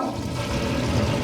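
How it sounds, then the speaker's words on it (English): A toilet flushes with a steady, loud rush of water throughout, heard up close and without any voices. "where the flushing of toilets is relentless"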